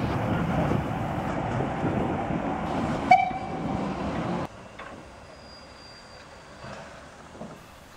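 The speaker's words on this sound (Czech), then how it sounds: "Posun s parní lokomotivou na nádraží Bad Doberan." Steam locomotive shunting at Bad Doberan station on the Molli narrow-gauge railway, a steady rumbling of the engine and cars with a brief sharp whistle-like squeal, then the noise drops to a quieter hum with faint clanks.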